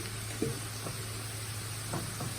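Onions frying in a pan for methi masala, browned and cooked through, giving a steady soft sizzle with a low hum beneath and a few faint knocks of stirring.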